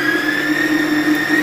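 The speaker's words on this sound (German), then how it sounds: "Nachdem ich es jetzt ein paar Minuten gemixt habe, gerührt habe" Stand mixer whisking egg whites for a sponge roll, a loud, steady motor whine with a constant high hum and slight rhythmic pulsing from the whisk, with no voices.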